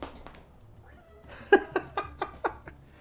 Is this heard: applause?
no